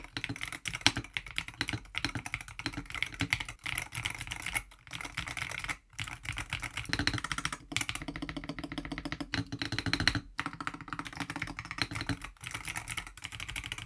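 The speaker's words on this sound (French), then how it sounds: "Là c'est le bruit que font les touches sur un tapis." Mechanical magnetic keyboard keys being typed on over a desk mat, a dense, continuous stream of muted clacks close up, with brief pauses between bursts of keystrokes.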